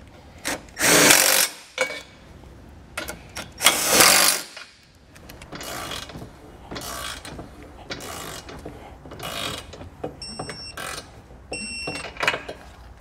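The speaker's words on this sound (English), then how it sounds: "now we'll go ahead and snug up all of our fasteners" Power tool snugging up hidden trailer hitch fasteners on a 2021 Mini Cooper, heard as two strong bursts early on followed by a series of shorter, quieter mechanical whirs and clicks, close by with no talking.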